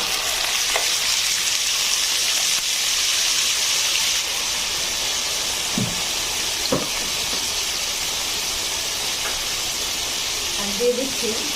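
Fried chicken pieces sizzle in a tablespoon of ghee in a pan while cooking white chicken biryani, a steady hiss with a few soft stirring clinks, and someone talks over it.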